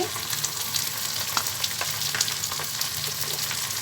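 Ginger and garlic paste frying in a hot pan for a Bengali chicken curry, a steady dense sizzle with scattered sharper crackles and pops throughout, close and loud with no talking.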